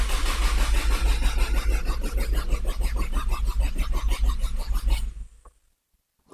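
A Nissan S13 SR20DET engine with an E85 fuel pump upgrade is cranked over by its starter, a fast rhythmic churning that runs for about five seconds without catching, then cuts off into silence.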